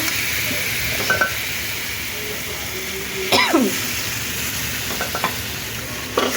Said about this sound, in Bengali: মরিচ সব এখন ভালো করে মিক্স করে নেব।